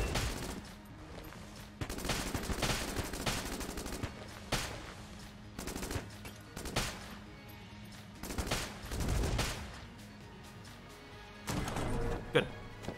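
Rapid bursts of gunfire from the Heck Blaster weapon in the Enter the Gungeon video game come in repeated volleys with short gaps, with game effects mixed in.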